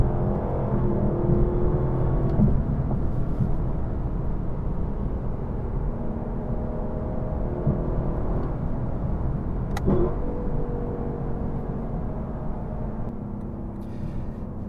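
A 2025 Lexus LC500 with a V8 engine is heard from inside while driving, a steady deep engine drone with gentle rises in pitch as it accelerates, loud and continuous with no talk.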